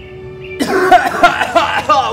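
A short burst of several harsh coughing or sneezing fits follows a moment of quiet, loud and close, coming in rapid repeated spasms.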